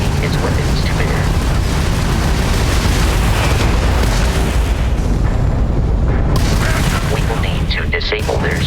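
Crimson Fleet ship weapons firing in Starfield space combat, a dense continuous barrage of loud booming blasts and crackling bursts filling the whole stretch, with a brief lull near the end.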